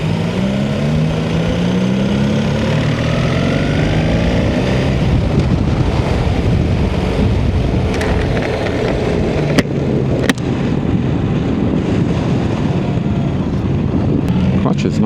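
A BMW motorcycle with a liquid-cooled boxer twin engine rides along, its steady engine drone rising in pitch as it accelerates, mixed with heavy wind rush over the rider's microphone.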